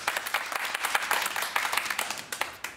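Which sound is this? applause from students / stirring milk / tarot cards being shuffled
applause from students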